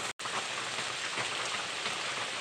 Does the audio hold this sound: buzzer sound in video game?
no